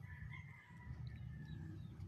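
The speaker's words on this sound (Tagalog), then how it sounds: "Mao ni siya ang mga manok karon" Chickens cluck steadily at close range while a rooster crows over them, a busy farmyard chorus with no talk.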